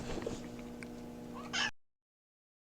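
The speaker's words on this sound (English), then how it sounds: "my cat just said hi" A pet cat lets out one short, close meow near the end, over a steady low household hum, before the sound cuts to silence.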